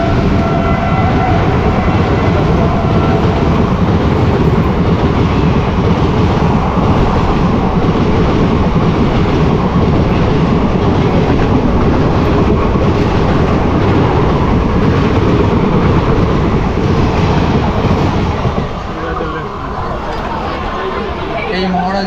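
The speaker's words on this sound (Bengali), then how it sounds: "অবশেষে পাহাড়িয়া এক্সপ্রেস ঢুকলো দীর্ঘ প্রতীক্ষার বলে।" The Paharia Express passenger train rolls into a station with a loud, continuous rumble and rhythmic wheel clatter. The roar stays dense and near throughout, then eases near the end.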